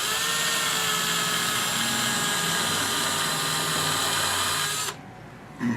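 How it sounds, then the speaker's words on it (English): A chuck drill bores steadily into cabinet wood with a loud, continuous whine that holds for about five seconds, then cuts off abruptly into near silence before a short final burst. "And then put your drill down in there"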